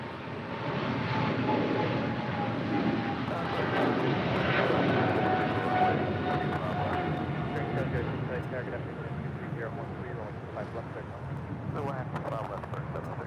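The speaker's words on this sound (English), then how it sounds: "This is Japan Air 15 Heavy departing to Tokyo" A Japan Airlines heavy jet airliner departs LAX for Tokyo Haneda, a loud rising engine roar that swells then slowly recedes into the distance, with a voice talking over it and wind noise.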